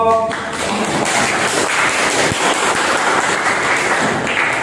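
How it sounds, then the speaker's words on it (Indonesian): A classroom of students applauding a student group after a presentation, dense continuous clapping from many hands close by, steady and loud from start to finish. "Tepuk tangan untuk kelompok."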